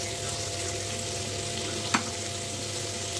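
Chopped vegetables, round-cut beans, carrots and cabbage, sauté in a pan, a steady even sizzle throughout with one brief sharp clink partway.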